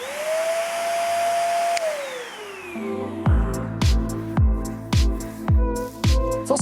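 A budget corded upright vacuum cleaner's motor whines steadily, then spins down with a falling pitch, followed by a series of loud rhythmic thumping pulses.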